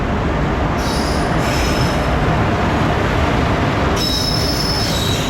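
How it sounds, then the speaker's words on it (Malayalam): A train pulling into Thampanoor railway station with loud, continuous wheel squeal and rumbling railcars, steady and close throughout, with sharp high screeching bursts. "നമുക്ക് പോകാനുള്ള ട്രെയിനാണ് വന്നുകൊണ്ടിരിക്കുന്നത്"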